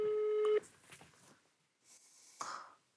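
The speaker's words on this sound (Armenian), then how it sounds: "Զանգանում ենք Լևոն Հարությունյան" A telephone call rings out on an Armenian prank-call broadcast: a short steady electronic tone, then quieter line clicks, then a second burst of ringing, all fairly soft.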